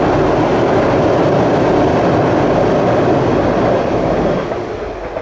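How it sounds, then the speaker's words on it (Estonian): A train rolls past near a railway bridge by a river, a loud continuous rumble and rattle that holds steady and then fades in the last second. "Ja just sel hetkel läks rong sealt mööda."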